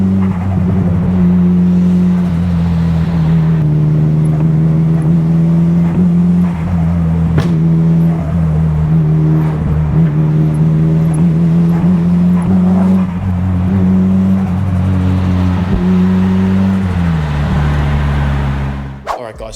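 A Nissan Silvia S15's engine drones steadily and loudly up close throughout, with small shifts in pitch as it is revved and held, before cutting off abruptly at the very end.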